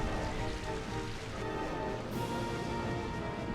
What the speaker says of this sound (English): Rain continues to fall.